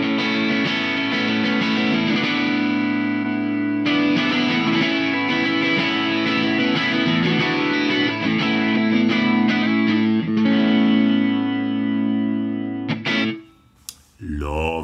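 Strummed guitar processed through an Arturia Chorus Dimension-D chorus plugin, giving a wide, shimmering stereo sound; sustained chords ring steadily for about thirteen seconds, then cut off abruptly with a few scattered clicks at the end.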